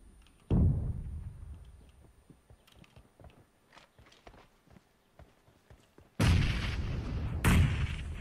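Explosions in the battle-royale game PUBG Mobile: a heavy boom near the start decays into scattered thuds and rattles, then two loud, dense blasts hit close together near the end.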